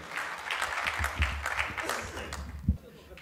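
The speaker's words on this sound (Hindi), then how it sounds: "जोरदार तालियां वेद पस्तौर के लिए" Audience applause greets poet Ved Pastaur at a Hindi comedy poetry gathering on a stage in Vrindavan, a steady wash of clapping with a few sharper claps and low rumbles, some voices mixed in.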